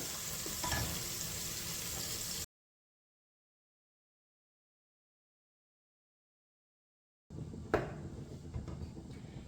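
Chilli masala paste frying in a pan for methi chicken, a close sizzle with a stirring clatter, broken by a long stretch of silence before the frying returns.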